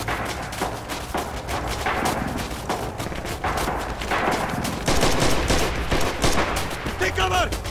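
Rapid, loud gunfire from the Red Orchestra 2 video game, with machine-gun and rifle shots cracking in quick irregular bursts throughout, plus distant artillery-like thumps underneath.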